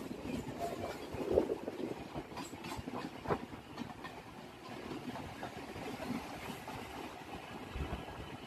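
A Lalgola–Ranaghat local passenger train running along the line, a continuous rolling rumble with rhythmic wheel clatter and rattling carriages heard at moderate volume throughout.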